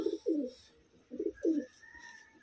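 A pigeon coos nearby in four soft, rounded bursts in two pairs, with a faint whistle-like tone trailing in the background.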